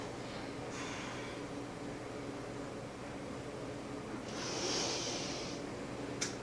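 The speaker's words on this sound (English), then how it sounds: "One more time, big breath in, big breath out." Deep breaths drawn in and let out during a Pilates mat workout, a long soft airy inhale and exhale heard close and faint over steady background hiss, with no talking.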